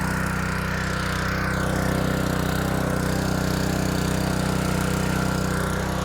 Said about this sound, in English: Give her some gas and let her run.